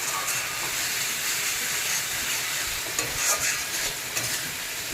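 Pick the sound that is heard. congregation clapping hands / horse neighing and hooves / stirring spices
stirring spices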